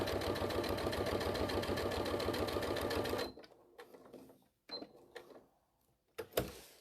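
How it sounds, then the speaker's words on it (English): A sewing machine top-stitches crazy patchwork, a fast, even run of close stitches for about three seconds before stopping, followed by scattered handling clicks and bumps. "I'm going to top stitch that down across here"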